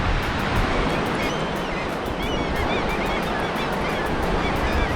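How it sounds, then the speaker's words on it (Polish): Waves roll onto a beach on the Barents Sea near Nordkapp, a loud, continuous wash of surf with wind, joined by honking calls from birds. "Plaża nad Morzem Barentsa."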